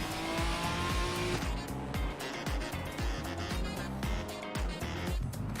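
GT4 race cars pulling away to begin an outlap at the Nürburgring: loud, continuous engine roar with rising and falling revs and repeated gear changes, several cars blending together.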